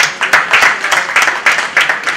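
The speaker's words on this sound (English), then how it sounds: "Please, a round of applause." An audience breaks into steady applause, many hands clapping in rapid overlapping bursts that swell and dip, loud and close throughout.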